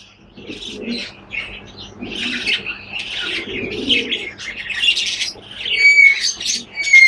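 Close, high-pitched begging squeaks and chirps from a pigeon chick in a clay pot calling for its mother to feed it, repeating in short bursts that grow louder toward the end, with no talk.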